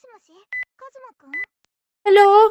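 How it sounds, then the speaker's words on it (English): A cell phone ringing in a video game, with short electronic beeps and chirpy melodic tones followed by a louder, harmonically rich burst of ringtone. "The abrupt ringing of my cell phone tears me away from my thoughts of laziness."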